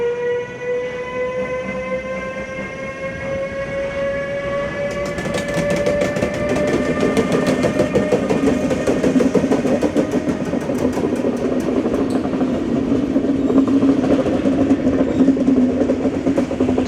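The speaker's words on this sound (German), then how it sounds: "Genießen wir den Sound der alten Waggons. Oh, der ist aber lang, der Zug." A long Flixtrain passenger train of old carriages departs from a station with a sustained whine of traction motors that slowly glides upward in pitch. A rising rumble of wheels and rhythmic clacking over rail joints builds as it passes.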